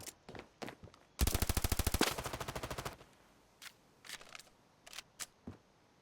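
Gunfire in the mobile shooter Standoff 2: scattered single shots, then a loud rapid automatic burst lasting close to two seconds, followed by more sporadic sharp shots.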